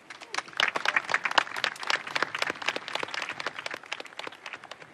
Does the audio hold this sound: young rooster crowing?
no